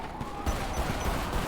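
Rapid gunfire bursts from a GTA V police shootout with suspects in a boat, several sharp cracks in quick succession over dense game noise, loud and close.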